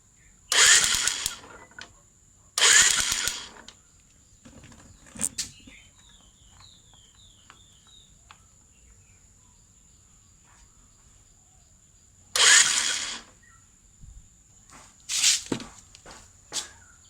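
A motorcycle engine is cranked with its electric self-starter during a spark plug and compression check, giving three short, loud cranking bursts of about a second each, separated by long quiet gaps with faint clicks.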